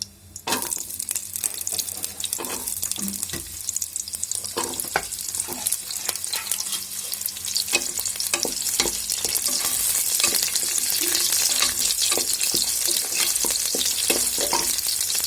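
Shallots fry in hot oil with a continuous crackling sizzle, punctuated by occasional clinks of stirring.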